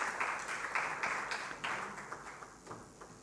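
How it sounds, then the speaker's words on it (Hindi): A festival audience applauds to welcome a guest onto the stage. The clapping is faint and scattered, swelling in short bursts before thinning out toward the end. "एक बार जोरदार तालियां बजा करके हम स्वागत करते हैं आदरणीय अखिलेंद्र मिश्र जी का कि वे मंच पर आए।"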